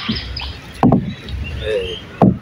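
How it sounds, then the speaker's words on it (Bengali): Wooden oars splash and knock against a small rowboat on water, two distinct close strokes about a second and a half apart amid soft water noise. "নৌকা চালা আস্তে আস্তে"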